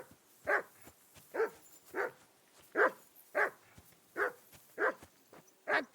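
A dog in the medieval game Kingdom Come Deliverance 2 barks repeatedly in an even rhythm, about ten sharp mid-distance barks roughly half a second apart with no talk.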